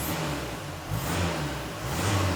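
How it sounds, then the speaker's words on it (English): A Volkswagen with its DPF removed, running a standard exhaust with a downpipe, revs in a few rising and falling surges over a steady engine drone, fairly close and moderately loud, with a broad hissy backdrop. "That's what it'll sound like with a standard exhaust with a downpipe"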